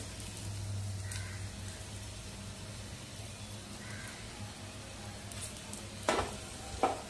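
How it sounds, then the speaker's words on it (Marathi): Whole spices and coconut roasting in a pan give a steady soft sizzle throughout, with a couple of sharper scraping stirs near the end. "आपण हे खोबरं घालूया"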